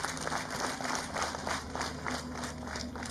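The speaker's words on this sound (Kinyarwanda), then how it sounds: "Baba bampera amashyi." An evening cultural event audience claps in a steady, rhythmic unison applause that keeps an even beat throughout, moderately distant with some crowd ambience.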